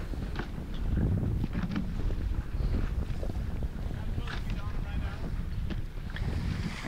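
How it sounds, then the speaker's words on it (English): Steady wind gusting across the microphone on open water near the shore of a resort during a sailboat match race, a continuous broad rush with low rumble and occasional splashes, loud and close throughout. "The breeze in right here under the shore of the Lavenna Resort"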